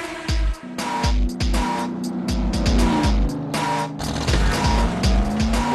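Race car engines rev hard and roar past for a radio advertisement promoting a motorsport night, with loud, continuous whining engines, repeated pass-bys and squealing tires throughout.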